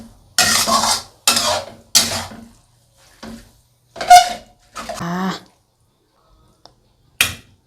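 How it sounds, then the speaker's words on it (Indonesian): Food stirred in a pot with a utensil in a home kitchen, heard as a few separate scraping and clinking strokes, close and distinct with quiet gaps between them; a voice speaks briefly among them. "Aduk-aduk"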